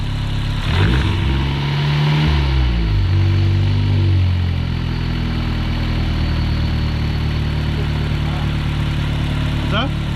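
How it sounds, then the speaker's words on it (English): A Volkswagen GLI engine, a car just back from clutch bleeding, runs loud and close, its revs sweeping up and down over the first few seconds before settling into a steady, rumbling idle. "Rev it."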